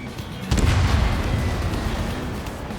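Missiles launching at targets in the Ace Combat 7 flight combat video game: a loud whooshing blast hits at once and carries on as a dense, roaring rumble, without speech.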